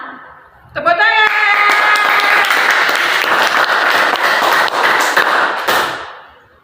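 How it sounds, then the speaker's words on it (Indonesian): Students and audience at a school cardboard puppet show burst into loud, close applause after a brief spoken intro, clapping hard and steadily before it fades away. "Tepuk tangan."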